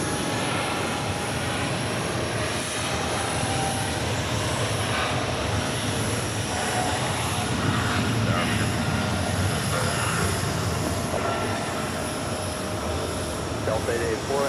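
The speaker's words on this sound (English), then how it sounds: "777 rolling down the 22 right" A British Airways Boeing 777 takes off on runway 22 right at JFK, its jet engines giving a steady, broad roar at moderate distance across the whole stretch, with faint voices in the background.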